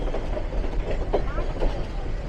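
Nilgiri toy train rolling into Coonoor station, its wheels giving a steady rumbling clatter with faint squeals, heard close and continuous with some voices mixed in.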